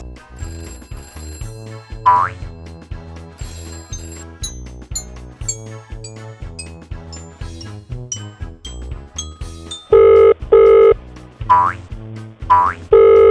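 A cartoon telephone rings in a Peppa Pig toy clinic scene, with short bright ringing bursts and one longer ring near the end, layered over bouncy music and boing effects.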